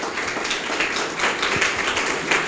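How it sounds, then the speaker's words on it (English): Audience at a book launch applauding Sameera Raja, a dense, steady round of clapping from a crowd, moderately loud and continuous. "Please, a big, huge round of applause for Sameera Raja."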